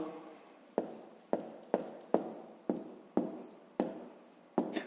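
A pen writes a maths inequality by hand on paper, giving nine short, crisp scratchy strokes at an even rhythm, each with a sharp start and a quick fade, close and fairly quiet.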